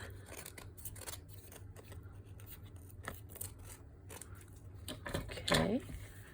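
Scissors trim craft material for a spooky haunted village shelf sitter, giving repeated soft snips and rustles close by, with a brief voice near the end.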